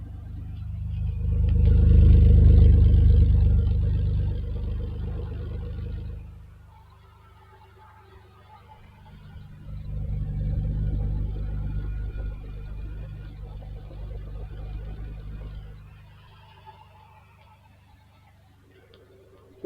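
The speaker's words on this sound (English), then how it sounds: "we'll get a listen also to the exhaust. There's twin exits on both sides." A 1987 Ferrari Testarossa's twin-exit exhaust rumbles deeply, swelling in two long revs that rise and fade, then settling to a low, steady idle.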